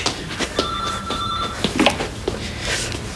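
A telephone rings indoors, a steady electronic ring tone running for about a second amid light background movement and rustling, moderately loud with no talking.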